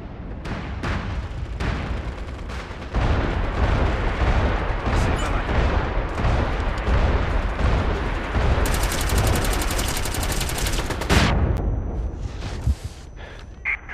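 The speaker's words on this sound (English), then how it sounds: "We've got incoming artillery fire." Incoming artillery fire in the military shooter video game MAG, heavy booms and rapid gunfire crackle in a dense, loud barrage, with a sustained high electronic whine partway through.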